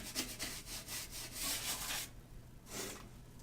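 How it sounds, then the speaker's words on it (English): A scrub brush scrubbing the grout in a shower gives rhythmic back-and-forth bristle strokes, close and moderately loud. It pauses briefly, then one more burst of scrubbing follows. "You can also use your scrub brush for the grout areas that may be a little difficult to come up."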